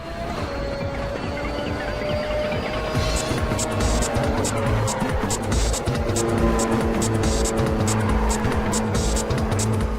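Race car drifting at high speed around a corner in a Ridge Racer video game, with a steady engine roar, a rising whine and tire squeal, and rapid repeated clicks in the background.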